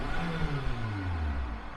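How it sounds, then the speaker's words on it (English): A neighbour's car engine starts up and runs at a steady mid-pitched level, with rising and falling engine tones, close by outdoors in San Juan del Sur, Nicaragua, where many vehicles are diesel. "I got one of the neighbors firing up his car."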